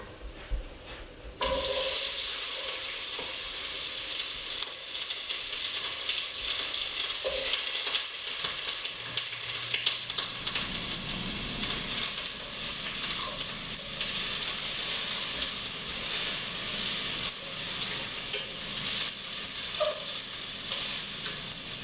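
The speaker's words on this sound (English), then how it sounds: "I'm just going to add them to the pot and give them a stir" Onions and garlic hit hot avocado oil in a pot, starting a loud, continuous sizzle after a brief quiet moment, with occasional stirring scrapes over the steady frying hiss.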